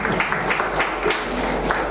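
Steady clapping from an audience at a church gathering, a dense spread of many hands patting together at an even level for the whole stretch, with no voices rising above it.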